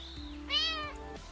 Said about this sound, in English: I hear a soft meow.